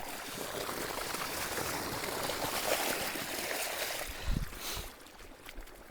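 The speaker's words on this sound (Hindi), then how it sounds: "गरम गरम पानी आ रहा है भाई" Hot water gushing from a well pump outlet into a farm field on a cold village day, a steady broadband rush of flowing water throughout with a brief splashy burst near the end.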